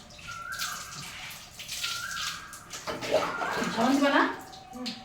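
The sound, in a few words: water poured while bathing an elderly woman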